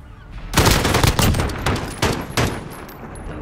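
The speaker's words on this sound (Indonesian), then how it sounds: "Cantik sekali tembakan daripada Kai menggunakan style AUG." Rapid bursts of AUG rifle gunfire in a video game search-and-destroy match on Suldal Port Harbour crack out in several loud volleys, each string of shots sharp and close, with short pauses between them.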